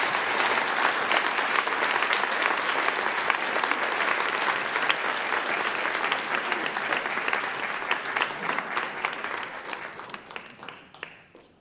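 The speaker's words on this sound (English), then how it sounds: "Give them a round of applause." Sustained audience clapping at a live talks event celebrating Canadian arts and culture, a dense, steady round of applause from a full hall that thins and fades out over the last couple of seconds.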